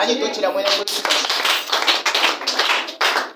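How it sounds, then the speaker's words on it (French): A church congregation clapping during a sermon, a dense close burst of applause with bright crisp hand claps rising and falling in waves, with voices mixed in. "Acclamez d'abord."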